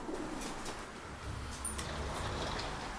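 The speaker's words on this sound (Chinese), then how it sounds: "那只鸽子飞走了" A pigeon gives low, soft coos close by, a murmuring throaty sound over faint background hiss, with no talk.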